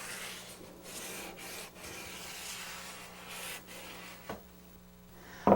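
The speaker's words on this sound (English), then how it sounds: "Use the roll of tape like an iron and press the hem firmly onto the tape." A roll of tape is rubbed firmly along a floorcloth hem to press it onto tape, giving a steady close scrubbing and rubbing sound with brief soft bumps.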